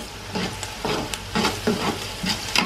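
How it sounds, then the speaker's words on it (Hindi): Ginger and red chili frying with light-browned onions in a pan, a close, steady sizzle with rhythmic stirring scrapes about every half second. "तो अब मैं अदरक डाल दूँगी दोनों, साथ लाल मिर्च भी डाल दूँगी सबकी।"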